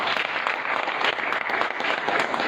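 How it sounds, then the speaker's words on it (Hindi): A church congregation claps together for the Lord, a dense, continuous patter of many hands with small swells, filling the room with no voices over it. "उसके लिए प्रभु के लिए ताली बजाओ"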